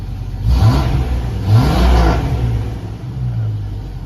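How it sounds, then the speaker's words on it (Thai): Up close, a Jeep XJ engine running on a repaired ZJ ECU revs twice, rising and falling each time, then drops back to a steady idle. "เร่งเครื่องใช้งานได้ปกตินะครับ อัตราเร่งปกตินะครับ"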